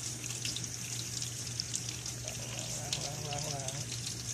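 Salted eggs are rinsed under running water at a sink, a steady close trickle and splash with faint scattered drips, while a person talks faintly over it.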